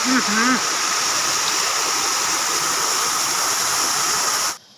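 Hathimara waterfall in Simlipal forest, a steady broadband rush of falling water that runs loud and unbroken for most of the clip before cutting off abruptly near the end; a brief voice-like sound appears at the start.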